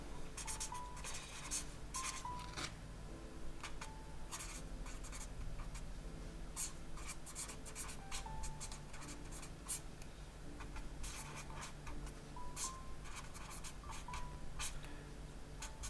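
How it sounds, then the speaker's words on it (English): A pen scratches across paper while writing out trigonometry calculations, a close, quiet run of quick strokes and taps in steady bursts. "I'll just calculate each angle with the 3 methods, and then we'll do the same for this angle. So just write these out"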